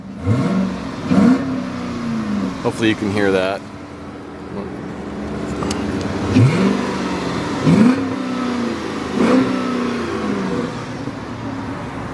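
A 2007 Charger's engine revs repeatedly in short bursts, rising and falling in pitch, with someone talking briefly over the idling motor.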